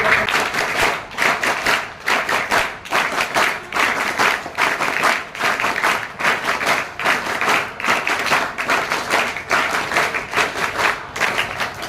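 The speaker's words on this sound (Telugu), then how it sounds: "మన క్లాప్స్ వెరైటీ కొడతాం కదా చీఫ్ గెస్ట్కి" Audience at a school parents' meeting clapping for the chief guest in a rhythmic patterned way, loud, close and sustained with regular bursts of many hands together.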